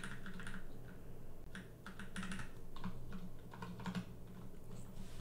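Quiet, steady typing on a computer keyboard, with irregular clusters of soft key clicks continuing throughout.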